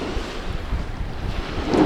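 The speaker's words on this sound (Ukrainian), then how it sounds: "Водичка шумить" Sea waves wash against the shore in a continuous hiss and rumble, mixed with heavy wind buffeting the microphone, loud and close, rising slightly at the end.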